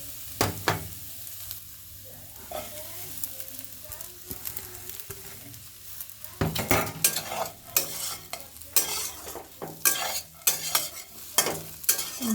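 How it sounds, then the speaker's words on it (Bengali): Sabudana (sago) snack sizzles as it fries in a pan, with a spoon stirring and scraping in repeated bursts that grow busier and louder in the second half, no talk. "এটা নেড়ে ছেড়ে নিলেই রান্না শেষ হয়ে যাবে।"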